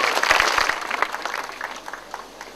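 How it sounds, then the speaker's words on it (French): Audience applause in a French studio welcoming a champion and her partner, a dense burst of clapping that starts loud and thins out over a couple of seconds. "Alors bravo à Marie, bravo à Greg, on les applaudit, merci."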